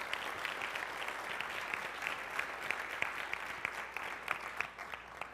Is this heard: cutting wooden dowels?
no